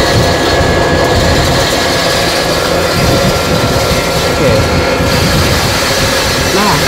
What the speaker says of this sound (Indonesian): ini untuk mesin pengepul serbaguna di sini ini untuk tipe AGR MD21